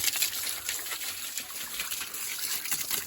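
Water splashes and gushes steadily as it is poured over a tractor to soak it before washing, a continuous close, bright rushing sound with no talk.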